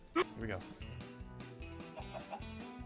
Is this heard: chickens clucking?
yes